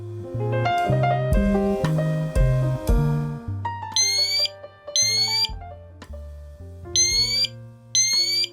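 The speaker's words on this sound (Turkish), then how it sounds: "Bir test edelim isterseniz ve sesini duyalım. Alarmı test et." A Meross GS559A smart smoke alarm sounds its test siren: four loud, piercing rising beeps in pairs, following a spoken voice prompt with chimes.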